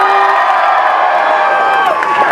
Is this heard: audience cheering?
yes